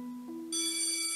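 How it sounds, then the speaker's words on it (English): A school bell sound effect in a children's story: a low steady tone is joined halfway through by a bright, shimmering metallic ring that holds to the end. "The school bell rang."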